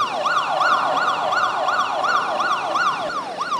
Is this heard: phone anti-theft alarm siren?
yes